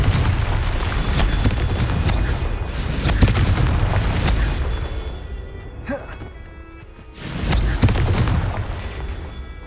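Confringo blasting spell explosions in the Hogwarts Legacy video game: heavy booming blasts roll on for several seconds, fade briefly, then another loud blast erupts near the end.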